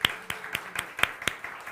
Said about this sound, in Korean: 우리 감사의 박수 한번.